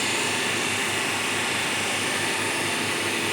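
DC motor driving a separately excited DC shunt generator in an engineering college lab, running at about 1534 RPM: a steady, loud broadband whir with a constant hum, no talk, unbroken throughout.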